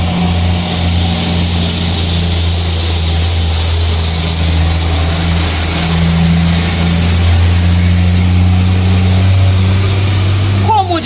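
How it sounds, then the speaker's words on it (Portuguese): A truck loaded with sand climbs the highway past a house, its engine a steady, fairly loud droning hum with the pitch rising toward the end, while someone talks over it. "Um caminhão cheio de areia."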